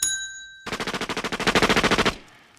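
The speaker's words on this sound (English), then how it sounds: "We'll fire off gunshots" A rapid burst of machine-gun-style gunfire sound effect rings out on a radio talk show: about twenty sharp, evenly spaced shots in quick succession, loud and close, preceded by a faint bell tone and ending abruptly.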